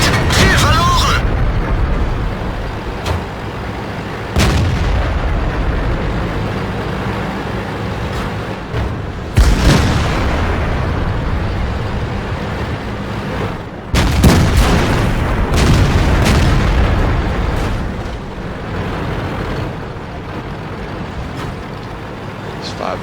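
Tank cannon shots and explosions boom out in World of Tanks gameplay featuring the E75 heavy tank, several loud blasts spaced apart over constant engine rumble and battle noise, with a voice speaking intermittently.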